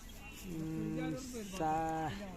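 A Khillar cow moos twice nearby at a livestock fair, two drawn-out lowing calls, the second louder and rising, with quiet background between.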